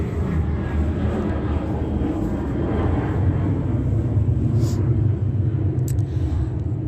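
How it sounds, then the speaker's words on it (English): An airliner flies overhead as a steady, broad low rumble that holds at an even, fairly loud level throughout, with no talking. "another plane flying over"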